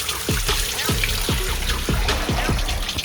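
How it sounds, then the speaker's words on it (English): Tap water runs while tomatoes are rinsed in a kitchen for grilled cheese sandwiches, a steady close splashing stream broken by repeated gurgling drips and sloshes as the produce moves under the flow. "We're gonna wash it, give it a good rinse."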